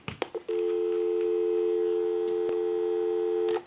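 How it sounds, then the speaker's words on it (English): A steady, continuous dial tone on a Wedgwood Jasper rotary desk telephone, heard close and alone after a few brief clicks at the start. "We'll go ahead and give you some dial tone."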